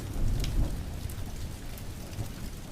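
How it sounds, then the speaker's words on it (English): Steady rain pattering on surfaces during a thunderstorm, with a low rumble of thunder swelling early, then the hiss of rainfall continuing alone. "The storm didn't let up."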